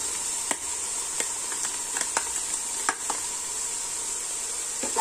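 Tomatoes go into sizzling aloo keema masala made with minced meat and softened green chillies, and a spoon stirs the pan. A steady close frying hiss runs throughout, broken by scattered sharp clicks of the spoon against the pan.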